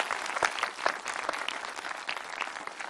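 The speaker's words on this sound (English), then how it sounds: "let's give our commencement speakers another round of applause, Rachel and Dr. Rohr, or Judge Rohr" Audience at a Peninsula College commencement ceremony in Port Angeles, Washington, claps in a sustained, moderately loud round of applause with dense overlapping hand claps.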